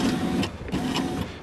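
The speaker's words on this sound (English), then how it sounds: "So I'm going to press up and hopefully we have a working motor" Electric window motor in a Ford Mondeo ST raising the glass, a steady close whirring hum running for about a second and a half with slight shifts in pitch and no talk.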